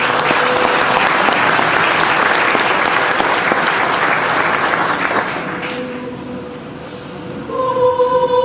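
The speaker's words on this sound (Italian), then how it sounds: "Gli amici, con un applauso li accogliamo." Audience applause welcoming choir performers before a sacred choral piece, dense sustained clapping from a full hall that gradually thins and fades out, followed by a faint tone at the end.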